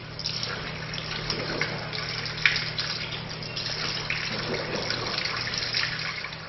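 Water runs steadily from a tap during ablution while the mouth is rinsed, a close, continuous splashing flow with small gurgles and spatters and no talking.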